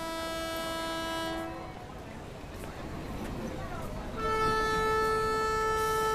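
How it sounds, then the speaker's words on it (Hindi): A train horn sounds as a train departs, with steady tones near the start and a louder, longer blast near the end over rumbling rail noise, and voices speak in the background. "ये ट्रेन हमेशा करेक्ट टाइम पे ही छूटती है"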